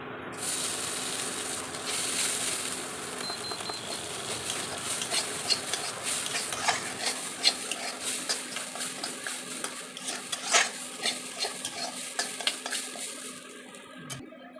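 Gobindobhog rice grains lightly fried in a pan, a steady close hiss with scattered scraping and clinking from stirring against the metal, continuing alone without voices.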